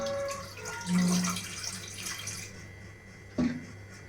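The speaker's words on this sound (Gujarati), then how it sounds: "ગેસ ચાલુ કરી એમાં 1 ગ્લાસ જેટલું પાણી મૂકશું" Water runs and splashes into a pot on the stove for a few seconds, about one glass, then tapers off, followed by a brief clunk of something set down.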